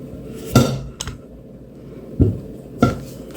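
A few hard clinks and knocks as a plate meets a dish while strawberry mousse is turned out, spaced out over a few seconds with quiet in between.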